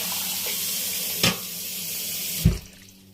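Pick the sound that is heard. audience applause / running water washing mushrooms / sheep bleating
running water washing mushrooms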